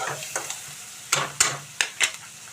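Curry leaves sizzling in hot oil for a fish curry, with a sharp crackling fry and several distinct bursts of spattering and stirring, close and fairly loud, with no voices.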